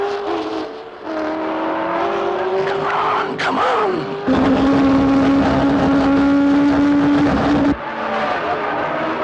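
Race cars in a motor race roar loudly and steadily nearby, the engine note rising and shifting as the cars pass, with a brief shout of encouragement over the din.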